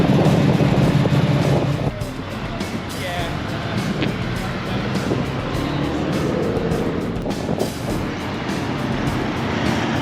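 Mazda RX-7 cars, including an FC, pulling away from a cars-and-kebabs meet, with engine noise rising over the busy crowd and then holding steady as they drive off. People talk nearby throughout.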